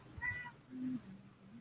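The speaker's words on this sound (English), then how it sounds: "And even my cat over here who wants to call out." A house cat calls out with one short, faint meow early on, followed by a low, quiet voice in a calm indoor room.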